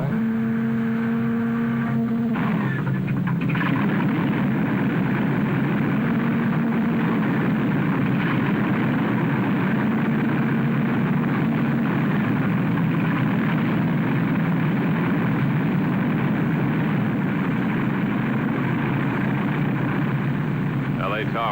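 United Flight 718, an airliner at an airport gate, drones low and steady from its engines, with a propeller-like hum settling after a brief rising whine at the start, continuous and moderately loud.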